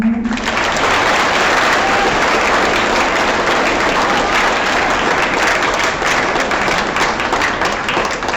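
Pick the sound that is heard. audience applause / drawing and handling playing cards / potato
audience applause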